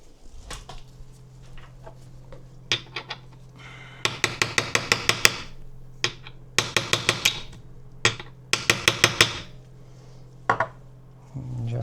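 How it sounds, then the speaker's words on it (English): Hammer taps on a Xiaomi M365 Pro electric scooter front bearing, knocking it into alignment: bursts of rapid sharp metallic strikes in quick clusters, close and loud over a steady low hum, with brief pauses between volleys. "We could use a little bit of hammer."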